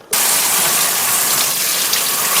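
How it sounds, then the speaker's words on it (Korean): Tap water gushes over fresh squid being rinsed, starting abruptly and then holding a loud, steady, close splashing hiss with no pauses. "오징어 발판이 흐르는 물에 씻어주셔야 돼요"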